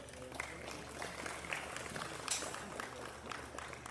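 Scattered applause from a small audience for youth exhibitors at a county livestock show, steady clapping over about four seconds with crowd murmur and some talking mixed in.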